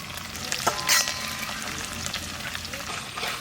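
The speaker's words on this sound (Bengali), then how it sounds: "হালকা ভাজা দেবো, তারপর তুলে নিচ্ছি মাছটা" Pabda fish lightly frying in a hot kadai gives a steady, close sizzle, with a couple of brief utensil clinks near the start and no talk.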